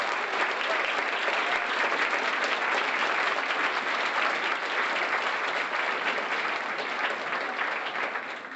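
An audience at an academic recognition ceremony at Ohio State Marion claps in sustained, even applause that continues steadily and tapers slightly at the end.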